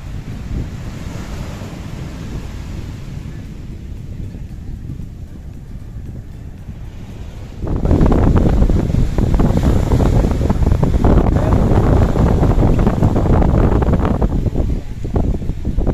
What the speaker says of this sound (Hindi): आप देख सकते हैं कितनी शानदार लहरें आ रही है किनारे तक